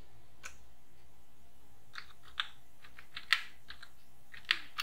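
Keys clicking on a computer keyboard as an address is entered into a vendor-creation form in the PFMS system, a few sparse, quiet taps separated by pauses, with no talking.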